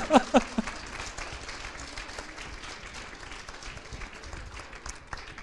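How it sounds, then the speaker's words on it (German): A cinema audience applauds a talk show guest: a few sharp claps open into sustained, even clapping from a crowd that fills the room throughout. "Dann begrüßen wir erst nur die eine Hälfte von Toto und Harry mit einem halben Applaus"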